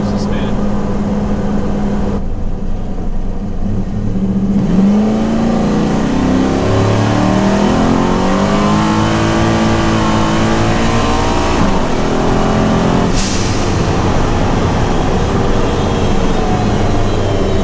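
An 1100hp twin-turbo S10 truck on street tires accelerates hard, engine roaring and rising through gears as the tires spin, loud and close, with a voice talking over it.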